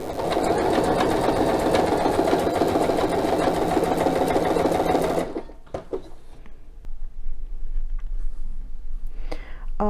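A sewing machine runs loud and steady, stitching a wide zigzag over a cord for about five seconds, then stops, leaving quieter handling clicks and small mechanical noises.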